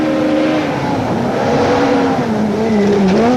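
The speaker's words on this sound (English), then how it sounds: "The second car on the road is the Castrol Toyota Auris of Leroy Poulter and Alvin Coetzee." A Castrol Toyota Auris rally car drives a stage of the 2012 Sasol Rally, its engine roaring loud and close throughout, with pitch dipping and rising as the driver works the throttle and gears.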